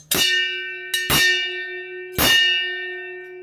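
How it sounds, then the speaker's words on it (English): A ship's crow's nest bell rings three times, bright metallic clangs with long ringing tails, the first two close together and the third after a short pause. "Quickly, Fleet banged the crow's nest bell 3 times."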